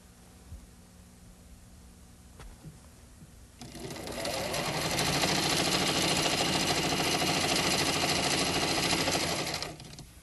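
A sewing machine begins stitching after a few quiet seconds, running a steady, fast, continuous whir for about six seconds before stopping, with the needle left down, loud and close.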